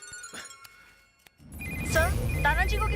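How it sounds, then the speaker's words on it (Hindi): Telephone ringtone for an incoming call from an unknown number, a short melodic electronic ring that starts partway in and gets louder, heard alongside a voice and other background sound in a comedy film scene. "किसी अननोन नंबर से कॉल आ रहा है"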